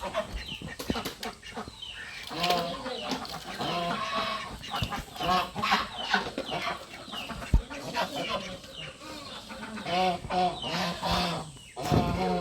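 Chickens cluck continuously at close range, with overlapping calls and sharper squawks scattered through a busy, steady chorus that has no pauses.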